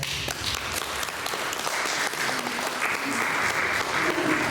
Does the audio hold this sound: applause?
yes